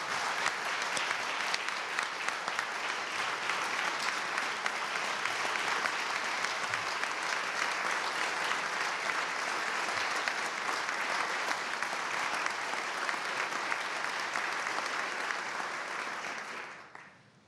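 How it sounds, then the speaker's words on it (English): An audience at Virginia's State of the Commonwealth address breaks into sustained applause, a dense, steady wash of clapping that fills the hall for over fifteen seconds before fading out. "I hope you'll join me in a round of applause for our state workforce."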